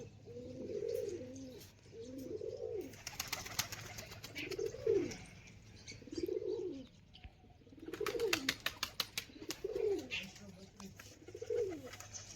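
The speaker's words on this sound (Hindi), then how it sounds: "और यहाँ पर कबूतर है हमारे सारे" Pigeons coo in a repeated rolling rhythm, about seven soft calls, with a few bursts of fluttering or rustling between them and no speech.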